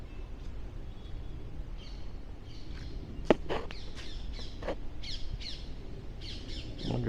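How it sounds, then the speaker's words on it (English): Harsh, squawking bird calls repeat in short bursts over steady outdoor background noise, fairly close, with a sharp snap partway through. "I wonder if you can hear that bird, that's really aggressive right now."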